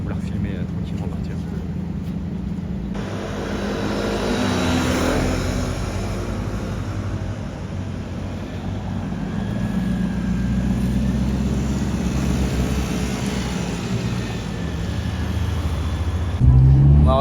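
Bugatti Chiron Super Sport Hermès pulling away on a Paris street, a low engine rumble rising and swelling amid city traffic noise, with people talking nearby.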